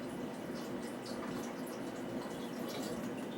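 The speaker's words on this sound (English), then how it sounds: "the first thing we're going to do is add water to the keg" Water running steadily into a Mr Beer plastic brewing keg, a constant soft rushing and splashing, faint and close, with no other sounds.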